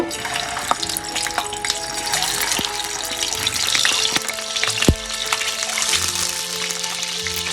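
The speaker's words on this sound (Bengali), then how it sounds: "তেলটা গরম হয়ে গেছে এখন আমি ডিমগুলো দিয়ে দিব" Eggs fry in hot oil with a dense, crackling sizzle that holds steady throughout, dotted with sharp pops and a few utensil knocks, close and fairly loud.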